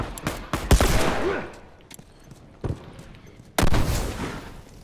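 Rifle fire in The Last of Us comes as about five sharp, booming shots in an irregular sequence: a quick burst at the start, then isolated reports with echoing tails between them.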